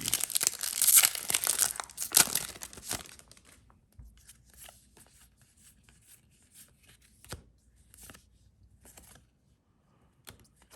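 A Flesh and Blood Arcane Rising booster pack torn open with a loud crinkling rip of foil wrapping, followed by quieter shuffling and flicking of cards with scattered soft taps.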